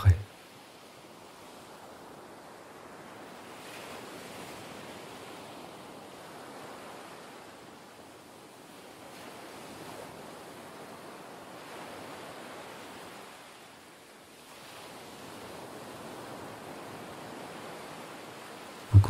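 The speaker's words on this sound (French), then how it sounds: "Les vagues continuent de s'échouer sur vos pieds et vos chevilles" Ocean surf washing in and out, soft rushing swells rising and fading in a slow, steady rhythm, gentle and continuous.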